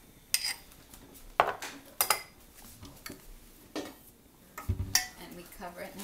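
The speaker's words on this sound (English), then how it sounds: "And we cover it now at this point." A metal lid is set onto a frying pan on a home stove, giving several sharp clanks and scrapes of cookware, close by and fairly quiet over soft kitchen background.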